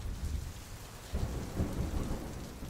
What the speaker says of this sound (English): it's not just a drizzle,